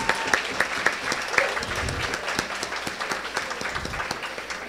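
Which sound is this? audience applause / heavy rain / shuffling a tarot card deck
audience applause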